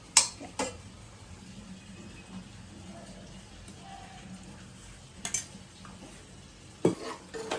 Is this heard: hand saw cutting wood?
no